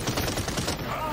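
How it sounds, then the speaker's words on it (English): Gunfire in the Paladins shooter game, a rapid burst of dense, loud shots rattling close by over a busy game soundtrack. "You actually shot me!"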